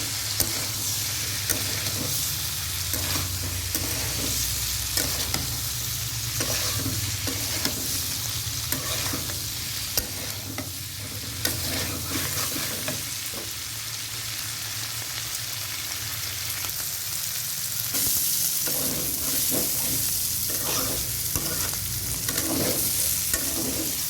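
Green beans and potatoes with turmeric sizzle steadily in a pan, with a spatula stirring and scraping in frequent close, rhythmic strokes throughout, and no talking.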